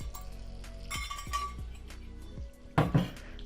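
Eggs go into a buttered pan over low heat, with a series of light clinks and taps of bowl and utensils against the pan and a louder knock near the end.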